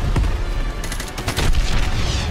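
Rapid bursts of gunfire, rockets and booming explosions fill a Call of Duty: Modern Warfare Remastered scene, loud and continuous with dense overlapping blasts throughout.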